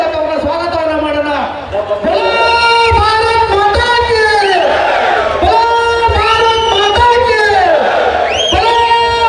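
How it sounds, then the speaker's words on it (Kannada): A large crowd at an election campaign rally shouts loud welcome slogans in rhythmic unison, the massed voices sustained and booming close by with repeated rising chant phrases. "ಅವರಿಗೆ ಜೋರಾದ ಘೋಷಣೆ ಮೂಲಕ ಅವರ ಸ್ವಾಗತವನ್ನು ಮಾಡೋಣ"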